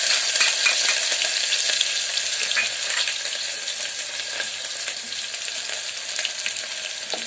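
Ginger-garlic paste frying in hot oil with popped mustard seeds and cumin, a steady dense sizzle with faint stirring clicks throughout, close and continuous with no talk.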